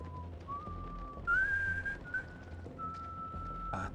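A lone, faint whistled tune in the horror video game House of Ashes, a few sustained and sliding notes set against low ambient rumble, with brief noise bursts in between.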